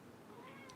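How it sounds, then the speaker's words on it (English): A cat meows once, faint and brief, heard indoors during a live stream against a low background. "There's a cat meowing."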